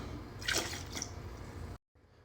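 Mango brandy pours into a cocktail glass as a brief liquid splash and trickle, close and fairly quiet, ending in a short silence.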